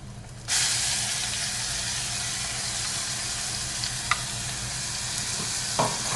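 Onion and spice paste for a bitter gourd curry hits a hot pan and breaks into a steady, dense sizzle that holds throughout, with a couple of faint utensil clicks near the end.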